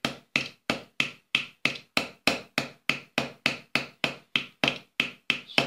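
A small toy hammer taps at a plaster T-rex excavation block from a children's paleontology dig kit, about sixteen sharp, evenly spaced knocks repeating steadily and close by, with no talking.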